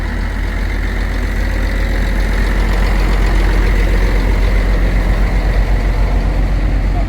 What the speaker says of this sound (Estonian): Veokas on käima pandud.